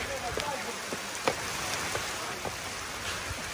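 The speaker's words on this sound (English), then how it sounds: "Perfect timing! It's hailing." Hail patters densely on surfaces outdoors, a constant loud crackling hiss with occasional sharper individual impacts.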